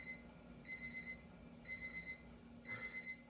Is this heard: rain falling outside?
no